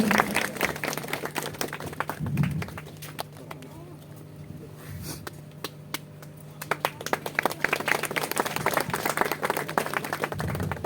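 A village gathering at a flag-hoisting ceremony claps in scattered bursts that swell, fade to a quieter stretch, then pick up again into steady applause, with some talk in between.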